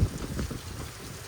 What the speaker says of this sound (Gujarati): આવું કોઈ વિચાર્યું નતું આવું બધો વરસાદ આવશે.